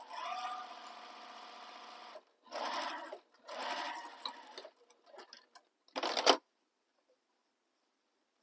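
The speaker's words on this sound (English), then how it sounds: "I'm going to top stitch along that top edge." A sewing machine top-stitches along the mountain folds of a sling bag in several short, close bursts separated by pauses, then goes quiet.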